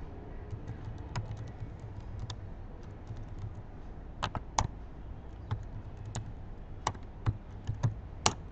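C# code is typed on a computer keyboard with irregular bursts of crisp, close key clicks and occasional louder keystrokes, heard alone over a low hum.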